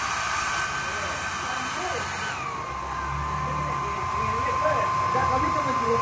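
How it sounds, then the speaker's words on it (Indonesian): A hair dryer runs steadily during a repair test, a close, continuous whirring hiss whose pitch drops and settles partway through as the setting changes, with no talking. "Dan dilihat hair dryer ini sudah berfungsi."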